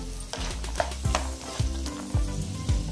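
Cashews fry in hot oil with a steady sizzle while a spoon scrapes and stirs the pan in quick, regular strokes, loud and close.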